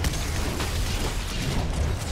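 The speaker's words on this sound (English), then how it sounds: "Oh, it's like an explosion" An explosion in the Fortnite video game gives a dense, rumbling, crackling burst that fills the whole moment at steady loudness, with no speech.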